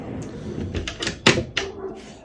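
A large pot drawer in a Windsor Daintree caravan slides and knocks, giving a few short wooden thumps and rattles in close succession, near and moderately loud.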